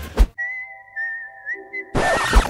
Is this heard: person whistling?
yes